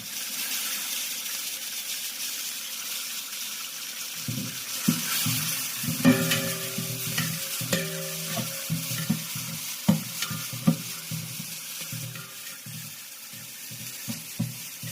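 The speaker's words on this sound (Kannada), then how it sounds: "ಫುಲ್ಲು ಫ್ರೈ ಆಗಿದೆ ಸ್ವಲ್ಪ ಎಣ್ಣೆಲಿ" Chicken sizzling and frying in a little oil, village-style chilli chicken fry, with steady crackling that grows louder after a few seconds and sharp spatters and stirring clatters throughout, close and alone without talk.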